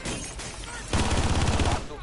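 Bursts of video game gunfire crackle loudly and steadily, growing denser and heavier about halfway through, with no talk over them.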